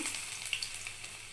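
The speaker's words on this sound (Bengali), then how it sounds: "এগুলো আগে তেলে ভেজে নেব আমি" Small cut potato pieces fry in a spoonful of oil in a wok, a soft continuous sizzle with faint crackles and pops, close and quiet.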